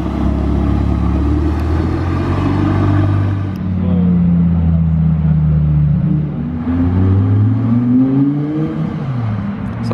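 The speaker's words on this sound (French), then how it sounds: "Sympa la Gallardo première génération comme ça." A first-generation Lamborghini Gallardo drives past a roadside car-spotting point, its deep engine rumble rising and falling as it passes close and loud, amid other traffic.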